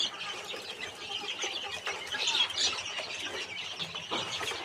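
Quails calling on a small backyard poultry farm, a busy mix of chirps and clucks going on continuously, fairly close, with no talking.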